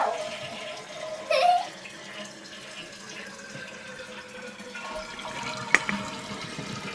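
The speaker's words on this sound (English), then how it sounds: "do you want to try flushing it, Zella?" A toilet flushes with steady rushing and gurgling water, moderately close, and brief voices and a child's sounds break in now and then.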